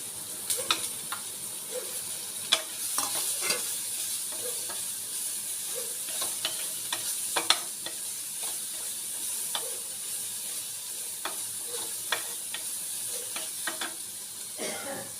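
Chopped onions with chillies and garlic frying in a pan for a Tamil side dish, a steady soft sizzle with frequent scraping stirs and clicks of the spoon against the pan, fairly quiet.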